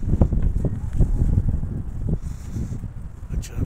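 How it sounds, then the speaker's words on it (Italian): Cold wind blowing at the Aboriginal Rocks lookout in Sydney, a loud, continuous gusty rumble buffeting the microphone, with no talk. "c'è proprio questo vento gelido"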